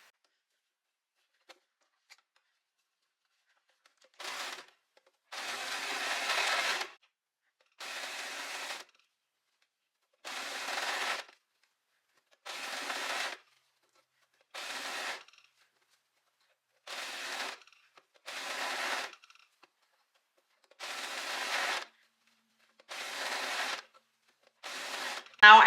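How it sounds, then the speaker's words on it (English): An overlocker sews a seam on linen pants in a series of short, rapid bursts separated by brief pauses, each run a close, even mechanical whir. "let's overlock it and then we can try them on for the first time"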